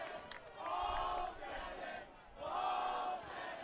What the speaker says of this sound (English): I don't know if you can hear the crowd.